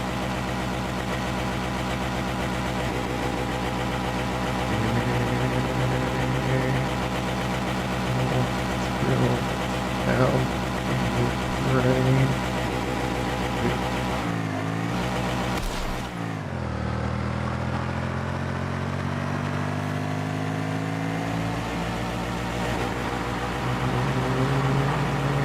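A military vehicle engine in the video game Hell Let Loose runs in a continuous loud drone that shifts pitch as it revs, drops briefly midway, then climbs back with rising tone and grinding mechanical hum.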